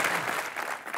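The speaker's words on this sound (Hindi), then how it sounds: "ठोको जरा दोनों के लिए जोरदार तालियां।" Brief studio audience applause on the TV comedy show Comedy Nights with Kapil, a dense wash of clapping held at an even level throughout the moment.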